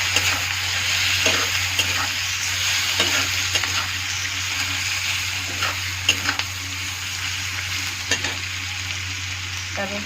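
Chopped onion and tomato frying in a pan, a steady loud sizzle with occasional stirring scrapes and a low hum underneath, continuous throughout with no talking.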